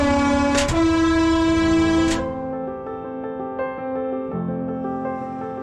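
A train on a railway in China sounds a loud sustained horn with strong harmonic tones, then rolls on with steady mechanical rumble and occasional rail clicks, close and prominent.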